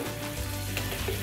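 Sugar syrup boiling in a pot for Italian meringue, heated to around 225–235 degrees, gives a steady, close bubbling sizzle with a continuous low rumble and no voices.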